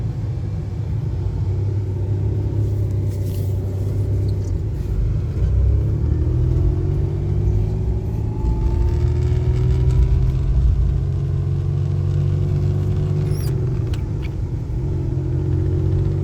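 A 1991 Ford truck with an M5OD manual transmission drives along, its engine a steady, loud low rumble with gentle pitch rises and dips as it pulls through the gears, heard from inside the cab with no talking.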